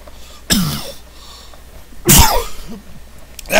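Two sharp, loud bursts about a second and a half apart, like coughs or sneezes, close by with no talking.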